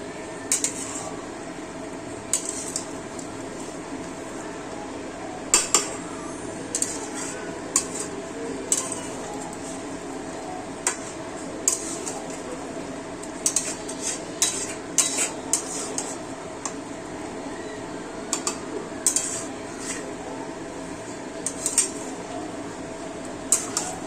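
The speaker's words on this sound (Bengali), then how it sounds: "5 থেকে 6 মিনিট এই মশলাটাকে কষাবো।" Spice masala for a restaurant-style Bengali chicken gravy, stir-fried over medium heat in a pan: a steady low cooking hiss runs throughout while a spatula scrapes and clinks against the metal in frequent sharp taps.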